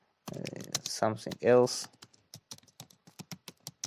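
Keys tapped on a computer keyboard in a run of quick, crisp clicks, close and moderately loud, with a voice speaking briefly over the first part.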